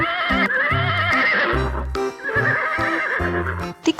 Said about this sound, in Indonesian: ada hewan kuda coklat juga nih